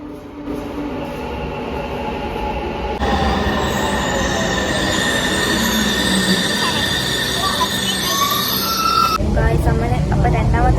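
A metro train arriving at a station, loud rolling rumble joined by long high-pitched wheel squeal that builds and persists, heard close on the platform, with faint voices in the background.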